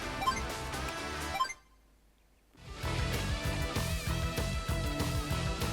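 Energetic remix of a theme from Advance Wars, with driving guitar and a steady beat, dropping out briefly to near silence for about a second before kicking back in at full volume.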